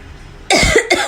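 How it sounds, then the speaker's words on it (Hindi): Two sharp, loud coughs in quick succession break a quiet room, close to the listener. "सॉरी मुझे थोड़ी खांसी है"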